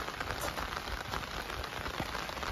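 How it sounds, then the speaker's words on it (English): Steady rain falls outdoors beside a compost area, a dense, continuous hiss of drops striking surfaces, close and even throughout with no talking. "It's raining."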